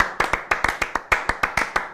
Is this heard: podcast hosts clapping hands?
yes